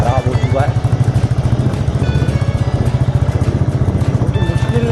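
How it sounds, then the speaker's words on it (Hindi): A motorcycle engine labours steadily at low speed up a steep mountain pilgrimage trail in the Himalayas, its surface wrecked by rain. The throbbing pulse runs close and loud throughout, with someone talking over it. "धीरे धीरे बाइक चला पा रहे हैं"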